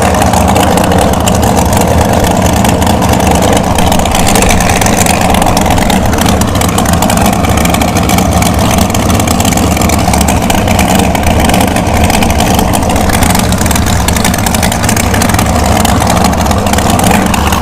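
A dragster at an NHRA bracket series drag race, a loud, steady engine roar filling the whole stretch without a break, heavy and dense with low rumble.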